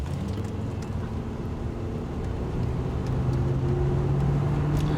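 A Cadillac pulls away from a standstill at full throttle, its engine a steady broadband roar whose low drone rises slowly in pitch and grows a little louder across the stretch, with no one talking.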